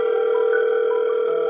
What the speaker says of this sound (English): all of a sudden, the phone started ringing